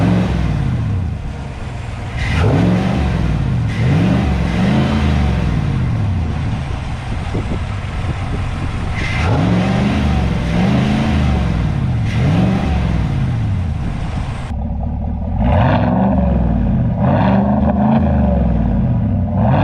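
A 2020 Chevrolet Silverado engine fitted with a cold air intake, heard up close as it starts and revs repeatedly, each rev rising and falling in pitch with a loud, deep exhaust note.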